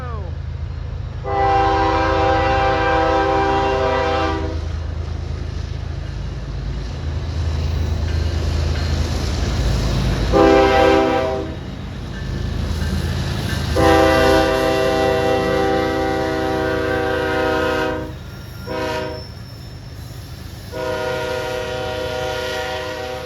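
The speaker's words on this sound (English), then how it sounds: "now I get to at least get to hear some horn and see some action going on" A Union Pacific and BNSF freight train led by an ES44DC locomotive sounds its loud multi-chime horn in four long blasts over the heavy rumble of the train passing close by in Erlanger.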